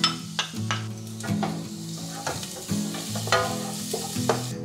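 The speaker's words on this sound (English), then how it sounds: "Okay, let's put the garlic." Garlic frying in hot oil in a pan over medium heat for vegetable fried rice, a steady loud sizzle close by with repeated stirring scrapes and clinks of a utensil against the pan.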